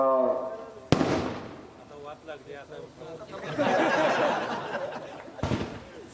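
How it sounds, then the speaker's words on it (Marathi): Two sharp firecracker bangs, one near the start and one near the end, burst out over people talking and laughing close by at a political party induction event. "फटाके थांबव ना."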